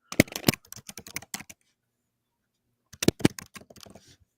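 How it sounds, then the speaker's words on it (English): Fast, loud typing on a computer keyboard, two quick bursts of sharp clattering keystrokes nearby, separated by a silent gap. "Is that Nick just slamming on his keyboard?"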